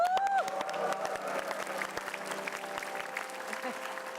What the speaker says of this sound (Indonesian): Ya boleh berikan tepuk tangan